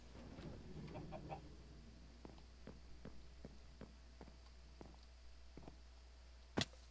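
A Minecraft chicken clucks in a quiet run of short, evenly spaced clucks, faint and fairly close, ending with a brief sharp click.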